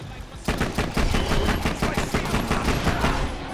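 A golden gun in the video game Borderlands: The Pre-Sequel fires a rapid burst of loud shots, about a dozen in quick rhythm that begins abruptly and continues without pause.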